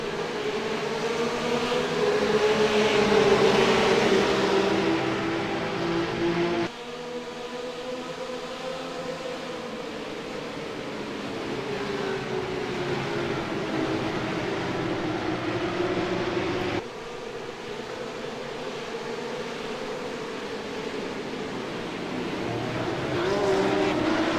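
RUF GT3 race cars start a race at Sebring in the iRacing video game, with several engines droning and rising in pitch together, loud and continuous, and gear shifts clearly breaking the roar.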